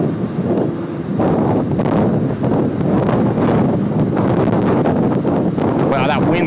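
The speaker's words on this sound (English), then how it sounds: "that wind's really starting to pick up at the moment as well" Strong southerly wind gusting across the microphone at Sydney Airport, a loud, steady roaring rumble with buffeting gusts and occasional sharp crackles throughout.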